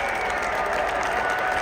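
Crowd applauding at the NFL Draft at Lambeau Field in Green Bay, a dense, even wash of clapping that holds steady throughout the short stretch.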